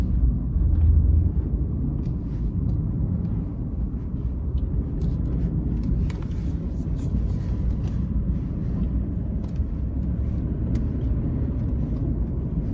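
A vehicle engine idles and rumbles steadily through deep snow near three bull moose, a continuous low drone that stays even and fairly close throughout, with no talk.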